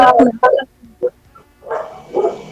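A neighbour's dog gives a few sharp, close barks in quick succession, followed by a couple of softer, more muffled yaps.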